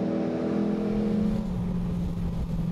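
A Factory Five Type 65 Coupe's big throaty V8 revs hard up close, its strong harmonic engine tone steady for a moment and then dropping into a rougher, lower rumble.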